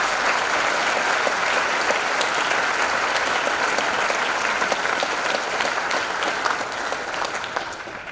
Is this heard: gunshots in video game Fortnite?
no